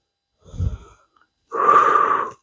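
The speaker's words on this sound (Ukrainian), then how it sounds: "Вдих. Видих." A person doing a gymnastic stick workout takes one short, soft breath in, then after a pause gives a longer, louder, wheezy breath out, close and isolated.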